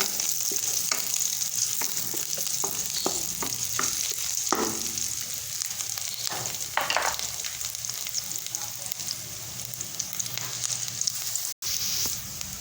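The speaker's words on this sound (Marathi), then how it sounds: "आता आपण गोल्डन ब्राऊनवर भाजून घेऊ" Chopped onion frying in a pan until golden brown, a constant hissing sizzle with occasional scraping stirs, close up and without voices.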